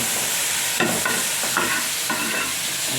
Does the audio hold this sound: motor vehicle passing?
no